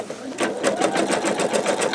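An embroidery machine fitted with a MagnaHoop magnetic hoop stitches steadily, its needle pulsing in a fast, even rhythm close by.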